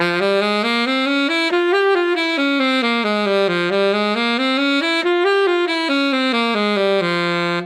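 A single saxophone, close and clear, plays a harmonic minor scale up and down and back again in a smooth, steady run of sustained notes.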